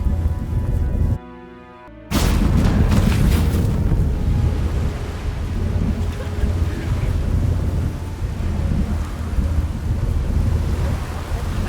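A thunderstorm with rain in The Witcher 3: Wild Hunt. After a short hushed gap, a sudden loud thunderclap rolls out, followed by steady heavy rain and wind.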